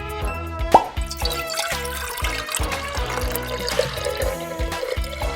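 A cartoon science experiment in which oil is poured, heard as a series of wet plops and drips, bubbly and uneven, fairly close and loud, with liquid gurgling throughout the few seconds.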